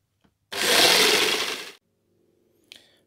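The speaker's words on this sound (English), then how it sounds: "I'm using a jigsaw to cut this out." A jigsaw buzzes loudly for just over a second cutting out a part, then stops, followed by a brief clatter; close and alone, no speech.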